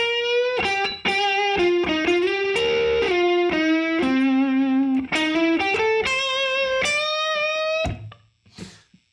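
Blues lick on electric guitar with a driven, slightly distorted tone: a close, loud run of swung single notes and bends that ends with a final ringing note and a brief fade.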